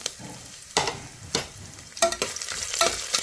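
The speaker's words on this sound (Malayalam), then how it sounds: "കടുക് പൊട്ടി വന്നപ്പോഴേ കുറച്ച് തേങ്ങയുടെ കൊത്തിട്ട് കൊടുത്തേ" Coconut pieces dropped into hot oil with popping mustard seeds for a chickpea curry, crackling in sharp bursts of sizzle with stirring scrapes between them, close and fairly loud, with no talking.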